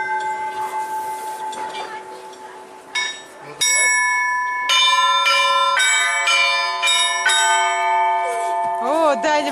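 Big and small bells in a haunted-house attraction are struck again and again. Bright, overlapping ringing tones build up and linger at close range, with a voice speaking briefly near the end.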